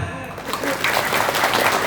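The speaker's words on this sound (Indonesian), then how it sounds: "Tepuk tangan." An audience in a mosque gathering breaks into brief applause, a quick burst of clapping that rises after a voice and carries on with chatter mixed in.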